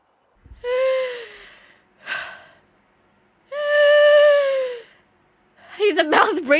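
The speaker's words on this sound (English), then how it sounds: "Why is he breathing like that?" Heavy, strained mouth breathing from a character in the horror game Parasocial by Chillas Art: a few long, voiced gasping breaths with pauses between them, close and loud, then a rougher burst.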